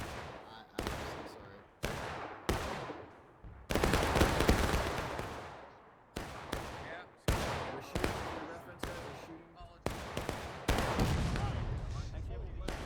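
Cannon and musket fire in the Civil War battle game War of Rights: a string of sharp, loud blasts with one longer booming roll mid-sequence, irregularly spaced, with faint voices underneath.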